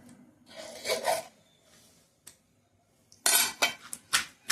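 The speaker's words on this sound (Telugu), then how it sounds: "బాగా దంచాలండి" Tomato chutney ingredients with tamarind pounded and ground in a stone mortar, heard as bursts of scraping, grinding strokes with gritty rubbing and a few clinks, separated by short pauses.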